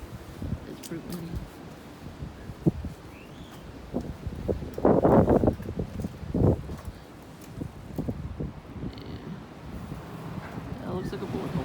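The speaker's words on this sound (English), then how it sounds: "It's pretty windy." Gusty wind buffets a microphone outdoors, rumbling in bursts with rustling and fabric flapping, while a person talks over it.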